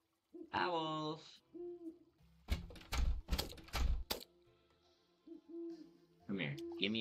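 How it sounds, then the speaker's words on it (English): Owls hoot in the video game Terraria: a few clear tonal hoots sound at the start and end, with a busy burst of clattering game noise in the middle and no talking. "Owls."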